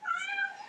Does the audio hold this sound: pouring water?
no